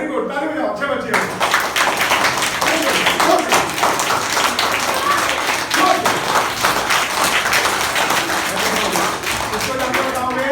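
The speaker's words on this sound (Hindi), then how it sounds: "ताली बजाओ, अच्छे बच्चे हो।" A group of school-age children clap together in a room, a dense, steady patter of many hands that starts abruptly and keeps going close and loud for about ten seconds.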